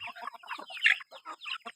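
A fighting rooster kept for breeding and sale clucks nearby in a quick, choppy string of calls that rise to a sharper squawk midway and then trail off into short clucks.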